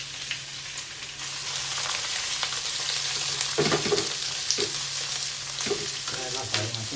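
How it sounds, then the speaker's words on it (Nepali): Bitter gourd (karela) frying in a pan with only a little salt, a continuous close sizzle with occasional stirring scrapes and clicks. "करेला फ्राई हुँदैछ"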